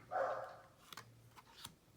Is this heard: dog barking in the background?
yes